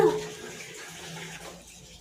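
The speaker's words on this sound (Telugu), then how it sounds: "ఇంకా లాస్ట్గా నీళ్ళు వేసుకోవాలండి" Water poured into a cooking pan of fried ingredients, a soft steady splashing and trickling that fades slightly toward the end.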